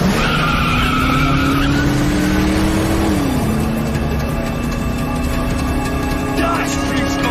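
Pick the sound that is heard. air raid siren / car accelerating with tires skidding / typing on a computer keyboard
car accelerating with tires skidding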